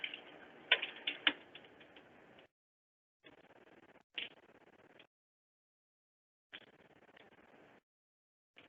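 Quiet bursts of typing on a computer keyboard: rapid clusters of light key clicks in separate runs of a second or two, broken by silent gaps, with a few sharper taps standing out.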